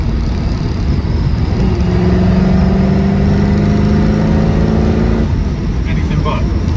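A 1974 MG B GT V8 pulls along the road at about 50 mph, its engine note droning and rising steadily under the cabin, with someone talking over the loud, continuous running sound.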